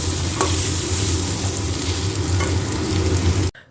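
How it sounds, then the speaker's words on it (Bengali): Potatoes fry in a pan and are stirred until dry, giving a loud, close, continuous sizzle with scraping stirs. The sound stops abruptly just before the end. "এটা একটু ভেজে ভেজে একদম শুকনো করে ফেলতে হবে।"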